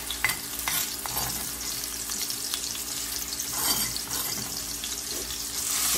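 Ingredients for nasi goreng stir-fried in hot oil in a wok, a steady close sizzle with scraping stirs and occasional clinks throughout, with no talking.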